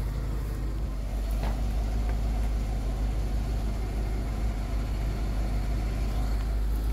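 A Chevy Kodiak dump truck's engine runs steadily, a deep continuous rumble that holds at an even, fairly loud level throughout with no talking.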